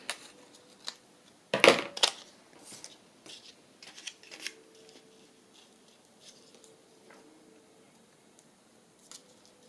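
Scissors snipping through fabric, a few close crisp cuts with a loud burst near the start, then quieter rustling and soft handling noises.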